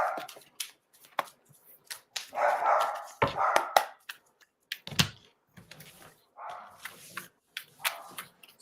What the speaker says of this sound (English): She's just waiting for her doggies to stop barking.